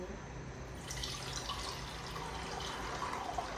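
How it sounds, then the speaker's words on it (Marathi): Water splashes and trickles steadily into a freshly washed metal pot, a continuous pouring rush with light drips, close by and fairly quiet. "याच्यात आपण पाणी टाकूया"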